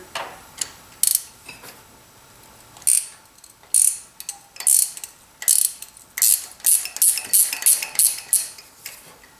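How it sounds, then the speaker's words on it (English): Ratchet loosening valve cover bolts on a Honda Odyssey engine, sharp metallic clicking in short irregular bursts, growing into rapid repeated ratcheting strokes near the end. "Take your other ratchet here."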